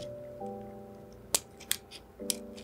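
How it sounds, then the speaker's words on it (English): Scissors snip bead thread close to a knot on a tiny crystal bead dancer ornament: a sharp close snip followed by two quieter cuts, over a low steady hum. "And now I'm going to snip closely as I can to that spot."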